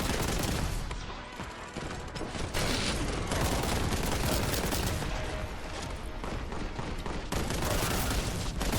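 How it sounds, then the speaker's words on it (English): Constant dense gunfire and explosive blasts in the Warhammer 40K: Boltgun shooter game, a loud unbroken barrage that never lets up. "I need to keep shooting them while avoiding their hits so I can maintain my contempt"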